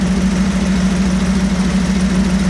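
A BluePrint 350 crate engine in a 1937 Buick street rod idles slightly high, a steady, loud, close-up rumble with an even low throb and no voices.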